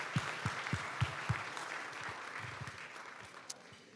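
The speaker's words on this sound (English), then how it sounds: "Let's give them a round of applause" Applause for the dinner and entertainment sponsors at a charity awards gala, a steady wash of clapping from a large seated audience, fairly soft and even with a few sharper claps standing out.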